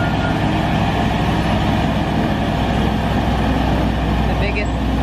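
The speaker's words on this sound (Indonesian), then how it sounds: "Ada mobil truk molen besar." A large toy cement mixer truck drones with a constant loud engine-like rumble and humming tones, unbroken and even throughout.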